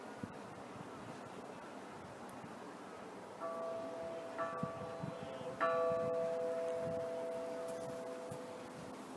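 Church bells of San Girolamo in Mestre ringing the note D4, several distinct strikes with long sustained ringing tones, heard from up in the bell tower over faint wind.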